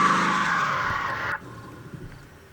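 A car stuck and skidding in the Roblox video game gives a loud, sustained tire-screech whine that cuts off abruptly after about a second and a half, leaving near quiet with a faint thump.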